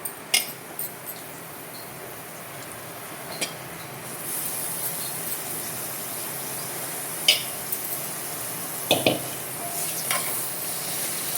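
Small prawns curry in a pan, being stirred with a utensil: soft sizzling bed broken by several sharp scrapes and clinks of the spoon against the pan, close by, with no talking.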